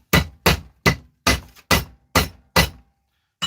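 A hammer strikes an object repeatedly to take it apart, about eight sharp, close, loud blows with a hard glassy clank, spaced roughly every half second with short silences between.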